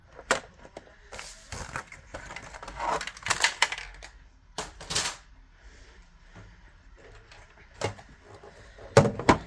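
Paper being cut for a handmade Alice in Wonderland folio pocket, with scattered crisp snips and rustling handling noises coming in irregular bursts, close to the microphone and with no talking.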